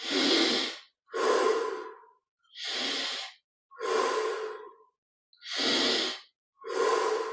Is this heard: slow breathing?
yes